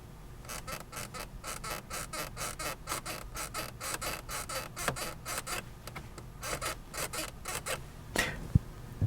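Creaky, rasping mechanism of a Volvo S90 Recharge glove box opening at the press of its button: a steady run of rapid scraping clicks repeated for about nine seconds, close up, with no talk.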